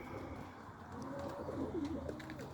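Tippler pigeons coo softly at their loft, low rounded calls rising faintly out of a quiet, steady background with no talking.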